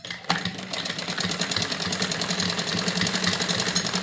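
A sewing machine stitches the seam of a pleated frock with a fast, steady mechanical whir and rapid needle clatter that starts after a brief pause and runs on evenly, close and clear.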